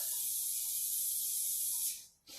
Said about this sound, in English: we're just going to use a little bit of oil, and we're just going to spray each side like that